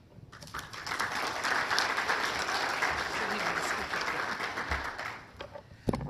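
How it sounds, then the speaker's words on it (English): An audience applauds at a Delaware Women's Hall of Fame ceremony, a sustained wash of clapping that swells and holds for several seconds before tapering, with a few voices mixed in. "Why don't we hold the applause till I've named everybody?"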